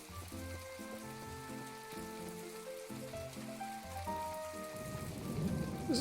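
Steady rain patters across a rainy day in the video game My Time At Portia, a soft even hiss under gentle game music that grows slightly louder toward the end.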